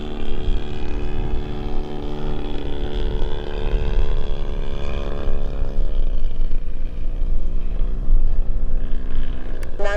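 A Seagull Models Decathlon RC plane with a DA100 gas engine drones loudly and close, its buzzing propeller note holding steady, then dipping and shifting in pitch as the throttle changes.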